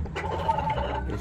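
A fighting rooster kept by a gamecock breeder in San Marcos gives a short, near fowl call lasting about a second, with a steady rough texture and no talk over it.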